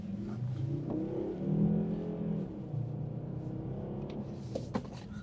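A 400 hp Volvo V60 D4 accelerating on a traffic-free road during a test drive, its engine note rising and falling steadily from inside the cabin.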